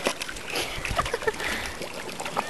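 Water splashes and sloshes as someone swims in a river, with quick irregular splashes close by over a couple of seconds.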